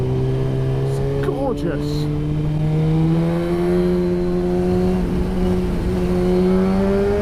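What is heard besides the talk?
Suzuki GSX-R motorcycle with full exhaust system revving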